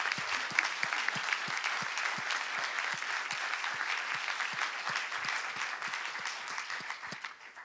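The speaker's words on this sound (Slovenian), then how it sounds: "Tole pa se zasluži en velik aplavz" An audience breaks into sustained applause at a closing event, dense clapping with a steady rhythmic pulse that runs evenly for several seconds before easing off at the end.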